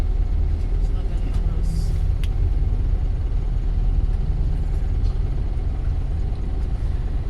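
Steady low rumble of city traffic with idling engines in a downtown area, continuous and close, with faint speech mixed into the drone.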